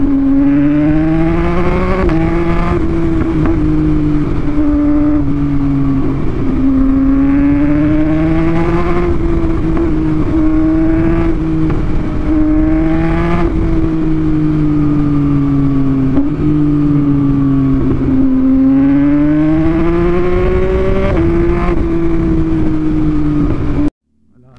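A Yamaha MT-09 motorcycle engine revs loud and close, the pitch climbing and falling in repeated waves of throttle and gear changes, with a sudden cut at the very end.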